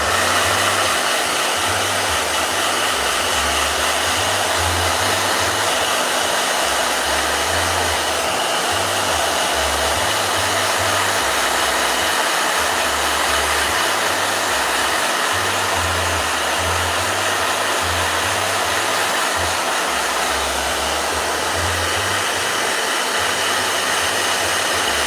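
Blow dryer running continuously at close range, a loud steady whooshing hum with a rhythmic low pulsing underneath, alone without speech.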